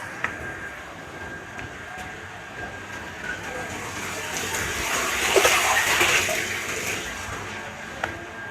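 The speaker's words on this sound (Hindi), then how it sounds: "इन पे पानी डालूंगा, साफ़ हो जाएगा" Water splashing and sloshing over dusty solar panels as they are washed, a soft broad rush that swells louder in the middle, over a faint background hum.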